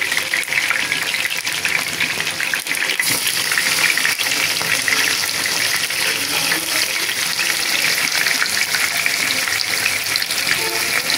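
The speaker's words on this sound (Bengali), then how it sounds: "আমি এগুলোকে এখন ভেজে নিচ্ছি" Chicken pieces fry in hot oil left from frying crisp onions, giving a loud, steady sizzle with crackling and occasional stirring scrapes, close and continuous throughout.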